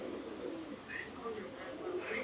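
Teddy pigeons kept in pairs coo softly and continuously against a steady hum of background noise, with faint chirps mixed in and no clear talk.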